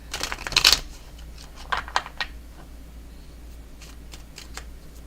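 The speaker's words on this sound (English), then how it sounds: "Getting all my cards mixed up again." Tarot cards being shuffled by hand, with a crisp riffling burst at first, then several shorter flicks and slides, close and clear, with no talk.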